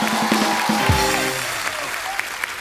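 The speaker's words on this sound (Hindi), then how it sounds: "जोरदार तालियां हो जाए जरा।" Studio audience applause on a television comedy talk show, a steady wash of many hands clapping from a sizable crowd, loud at first and easing slightly, with faint music and a brief spoken thanks underneath.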